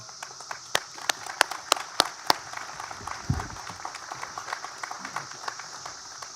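An audience at a Memorial Day ceremony in Vienna claps to welcome a keynote speaker, with sharp, scattered handclaps at first that settle into steadier, moderate applause alongside a low bump of crowd noise.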